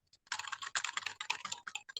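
Fingers type rapidly on a computer keyboard, a close, dense run of clicking keystrokes with short pauses, heard alone without any talk.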